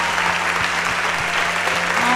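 A church congregation claps loudly and continuously throughout at a Telugu Christian worship gathering, a dense wash of applause with a steady low hum underneath.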